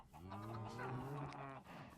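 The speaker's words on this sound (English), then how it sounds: "We got a chicken farm back here, which I'm pretty sure still works." Chickens cluck in a Minecraft chicken farm, a continuous run of harmonic clucking over two seconds with a voice talking over it.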